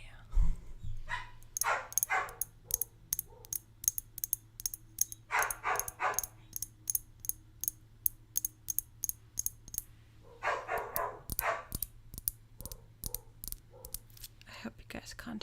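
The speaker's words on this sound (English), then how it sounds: "It's like all the dogs of the apartment complex have decided to rage war today." Dogs barking around an apartment complex, sharp distant yaps and woofs repeating in scattered bursts over a steady low hum, with soft close whispering in between.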